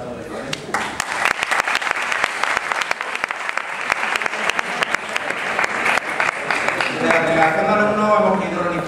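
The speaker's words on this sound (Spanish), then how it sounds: "un pequeño aplauso para todos ellos" A hall audience applauds at a university law faculty political debate, with sustained, crackling clapping from many hands throughout and voices rising over it toward the end.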